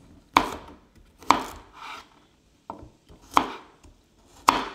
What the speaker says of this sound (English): You do want to make sure you cut them small so they cook evenly, just like this.